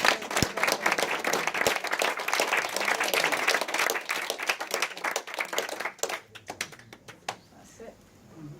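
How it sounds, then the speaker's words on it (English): Hands clap together in a steady burst of applause for a woman during a therapy session, dense and lively for about six seconds, then thinning to a few scattered claps before falling quiet. "Give her a round of applause"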